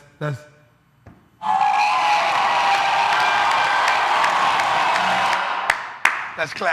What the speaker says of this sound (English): Let's clap for that, man.